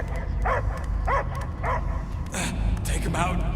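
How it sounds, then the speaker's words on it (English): A dog in the Guardians of the Galaxy video game barks in a string of short, close yips and bow-wows, about six in all, over a low rumbling game background. "I hear only barking"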